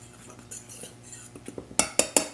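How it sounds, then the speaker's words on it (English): A fork stirs flour, baking soda and iodized salt in a bowl, tapping and scraping softly and then clinking sharply three times near the end, close up, with faint whispery sounds underneath. "with a fork, and we'll mix that up"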